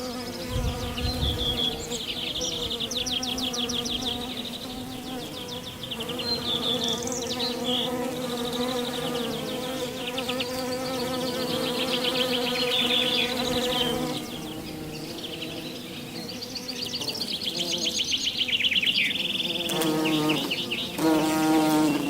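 Klanceng stingless bees swarm around their hives, a dense, continuous close-up buzz of many insects with shifting whining tones, steady and loud throughout with no talking.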